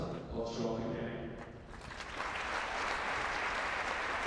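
Memorial applause from a crowd at the Ulster Schools' Cup rugby final, Campbell College v RBAI, swelling in after an announcer's voice fades, then a broad sustained clapping at moderate distance.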